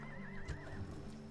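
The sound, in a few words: horse neighing in video game Total War Rome Remastered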